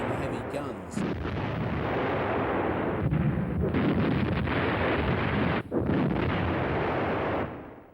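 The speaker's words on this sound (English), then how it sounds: "Support for the Fallschirmjäger is being provided by a battery of 17cm K-18 heavy guns." Heavy 17cm K-18 guns of an artillery battery fire in deep, sustained booming roars with rumbling blast noise, loud and continuous across the clip with a brief dip near the end.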